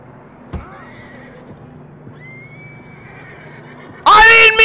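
A horse lets out a loud, brief whinny with rich harmonics near the end, after a stretch of quieter rising tones over a low, steady background.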